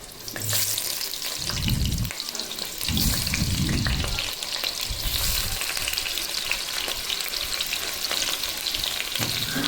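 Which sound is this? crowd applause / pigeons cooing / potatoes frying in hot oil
potatoes frying in hot oil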